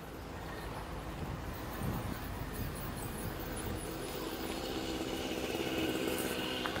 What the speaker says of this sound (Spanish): yo no sé si el sonido de esa moto